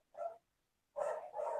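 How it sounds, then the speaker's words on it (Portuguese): Dogs bark in short bursts nearby: one bark, a pause, then two quick barks in succession, fairly loud and with no talk over them. "Meus cachorros estão latindo demais."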